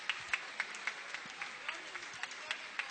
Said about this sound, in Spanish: les voy a pedir nuevamente un aplauso